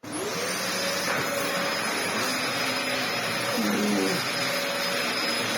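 A Dyson DC04 upright vacuum cleaner runs steadily with its brushing floor head engaged, a loud continuous whine and airflow roar with shifting tonal hum beneath, no talking.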